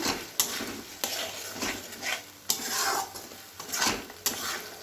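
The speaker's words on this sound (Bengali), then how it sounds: "এবার খুব ভালো করে মিশ্রণগুলি মিশিয়ে নিতে হবে" Brinjal pieces being mixed with sour curd and mustard paste in a pan, a spoon scraping and clacking against the metal in repeated strokes, close and fairly loud with a soft sizzle underneath and no talking.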